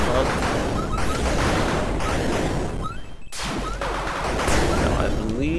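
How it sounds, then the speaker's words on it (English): Rocket launcher fire in the dungeon game Tallowmere, a dense run of booming blasts and crashes filling the clip, with a brief dropout near the middle before the explosions resume loudly. "Rockets are fun."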